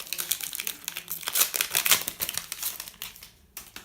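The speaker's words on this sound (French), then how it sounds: "Ils sont vraiment coriaces ces petits boosters à ouvrir" A Pokémon Charizard booster pack wrapper is crinkled and torn open, a close series of sharp crackling rips and crumpling bursts, busy at first and tapering off toward the end.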